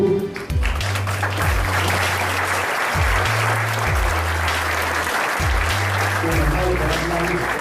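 Conference audience at an insurance event applauding in tribute, steady sustained clapping throughout while low musical tones sound underneath.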